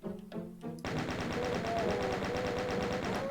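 Chaingunners in the first-person shooter Doom open fire together in the Marble Zone map, a dense continuous hammering of rapid gunshots kicking in after a brief choppier burst, loud and sustained with no talk.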